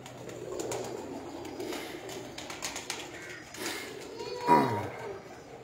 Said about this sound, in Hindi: चंद एक ब्रीडर कबूतरों का आपको शो करवाया है।